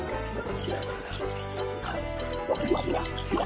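Water splashes and trickles as a toy white fox is washed, close, gentle pouring and dripping under a steady tonal musical backdrop.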